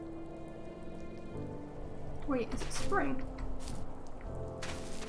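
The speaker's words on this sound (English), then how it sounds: "It must be, it's raining." Rain falling in the video game The First Tree, a steady soft hiss of patter that runs through the whole stretch while a person talks over it.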